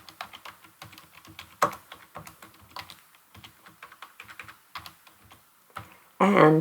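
Computer keyboard typing in a spreadsheet program, quick irregular key clicks running through the clip with pauses, close and clear, then a louder burst of sound at the end.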